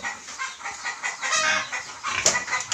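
Farm chickens clucking in a rural yard kept alongside pigs and geese, a busy, close run of repeated clucks and squawks, one sharper call near the end, with no talk.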